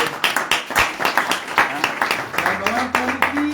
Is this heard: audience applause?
yes